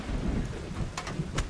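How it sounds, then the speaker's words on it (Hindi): Steady rain falls, with a low rumble of thunder underneath and a few sharper crackles and drips near the end, all without voices. "बारिश हो रही है"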